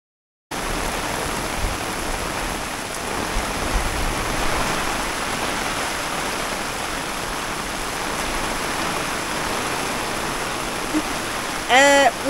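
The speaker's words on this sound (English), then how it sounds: "I'm by the pool in the rain." Rain falls by a campsite swimming pool on France's west coast, a steady, even hiss of drops that holds for the whole stretch, with a faint brief sound near the end.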